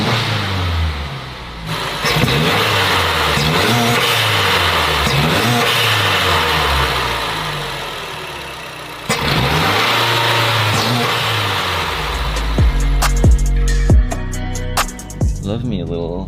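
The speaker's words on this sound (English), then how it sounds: "Love me a little intake test drive." A Mazdaspeed 3 engine with a newly installed turbo intake revs hard from inside the car during a test drive, with loud rising and falling engine sweeps, a brief lift-off, then another climb ending in sharp gear-change surges.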